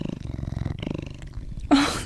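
A close, rhythmic cat purr rumbles steadily in quick pulses, then ends abruptly in a brief louder noise.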